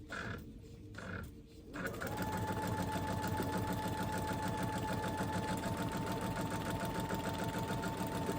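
A sewing machine stitches a foundation paper pieced quilt block, starting after a brief quiet moment and then running in a fast, steady mechanical whir until the end.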